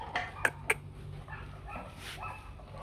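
Rottweiler puppies about three months old give two short, sharp yips or barks close by, followed by quieter whimpering and rustling in the background.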